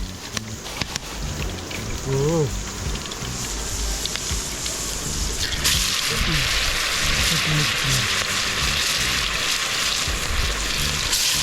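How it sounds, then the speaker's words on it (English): Chicken for sweet and sour chicken frying in hot oil, outdoors by a river, a steady loud sizzle that swells partway through and holds, with a voice speaking earlier over kitchen noise. "So we're going to start frying the chicken then now."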